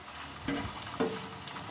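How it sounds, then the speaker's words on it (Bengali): Potato and semolina snacks fry in a little oil with a soft, steady sizzle and two brief bubbly spikes, close but quiet. "অল্প তেলে ভাজা হচ্ছে বন্ধুরা দেখতেই পাচ্ছ আমি যে ডুবো তেলে ভাজছি সেটা না"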